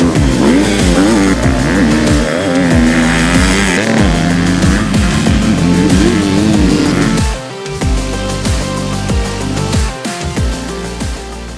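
A 2022 KTM 250SXF motocross bike is ridden hard, its engine loud and close, revving up and down in repeated sweeping bursts with gear changes and brief throttle cuts.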